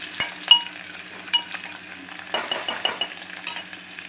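Curry leaves and green chilies fry in a pan with a low, patchy sizzle, punctuated by a few sharp clinks and stirring scrapes, the busiest stretch coming in the second half.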